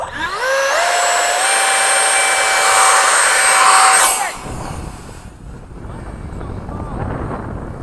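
A Skyangel 50mm electric ducted fan RC jet flies past at half throttle, a loud, rising whine with strong harmonics that sweeps in and then cuts away sharply. Gusty wind and faint outdoor noise follow.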